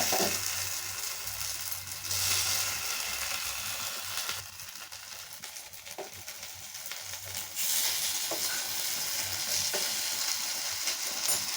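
Carrot paniyaram sizzle and fry in a paniyaram pan, a steady close crackle with occasional soft scraping clicks, quieting briefly midway before rising again.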